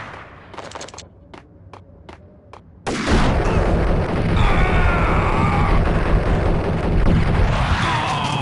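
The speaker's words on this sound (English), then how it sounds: "That's a grenade." A grenade explodes in the Max Payne shooter: a few sharp, sparse clicks and shots, then a sudden loud boom that swells into a long, roaring rumble full of debris and crackling.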